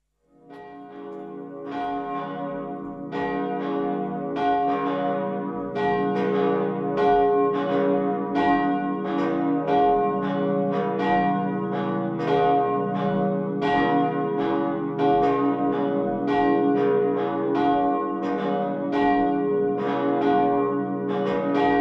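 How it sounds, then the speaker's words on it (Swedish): Cathedral church bells ringing to call people to high mass, several bells pealing in a dense, overlapping, continuous rhythm, loud and sustained for the whole stretch with no voices. "Och kyrkklockorna har redan börjat ringa för att lysa samman till vår högmässa."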